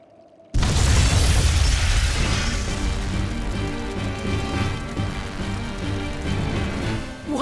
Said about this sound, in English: Tools of flamestone, sulfur, and oil. Those will explode.